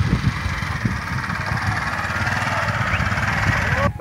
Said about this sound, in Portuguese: Pra onde nessas carreiras, nessa moto?